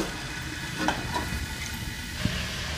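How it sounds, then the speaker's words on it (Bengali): Cauliflower cooking in a little oil and a splash of water in a covered pan, giving a low, steady sizzle with faint stirring clinks, quiet and continuous with no talk. "একটু ঢাকা দিয়ে দিয়ে ফুলকপিটাকে কষিয়ে নেব"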